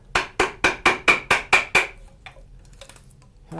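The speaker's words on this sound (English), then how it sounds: "I'm going to hit it with a chisel." A hammer strikes a chisel eight times in quick, even succession, cutting away waste wood for a cross lap joint. The sharp, ringing blows are close and loud, then give way to quiet shuffling.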